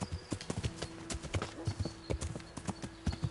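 Hooves of a horse named Pebbles clip-clop in a brisk, even walking rhythm, close and clear, in the medieval game Kingdom Come: Deliverance, with no talking.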